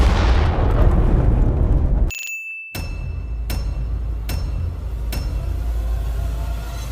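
A comedic cartoon explosion bursts loud and broad for about two seconds, cuts to a moment of silence, then a string of evenly spaced metallic dings rings out over a low rumble.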